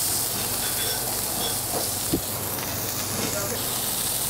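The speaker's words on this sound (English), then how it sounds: "once the monkfish is poached, then we're going to colour it off in this pan" Poached monkfish searing in a hot pan to take on a golden colour gives a steady, fairly loud hiss and sizzle that runs the whole time, with one small pop partway through.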